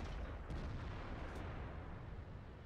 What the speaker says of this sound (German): Der Boss, die hat geschossen.